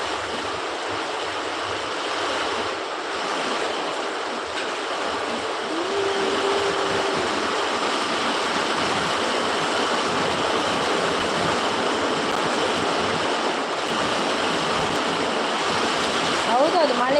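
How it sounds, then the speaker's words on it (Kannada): Heavy rain pours down in a dense, steady roar with strong wind, a constant loud hiss across the whole stretch, with a faint voice briefly audible near the end. "ಹೌದೌದು ಮಳೆ ಶಬ್ದಕ್ಕೆ ಜೋರಿದೆ ಮಳೆ"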